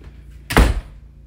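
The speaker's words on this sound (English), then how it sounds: "Close the door." A bedroom door in a house closes with a single solid thud, fairly close, with a generator humming faintly in the background and no talk.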